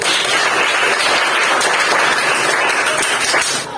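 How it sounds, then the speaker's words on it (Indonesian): A classroom group gets steady, dense applause, many hands clapping continuously at close range with no voices, fading slightly at the end. "Tepuk tangan untuk kelompok 1."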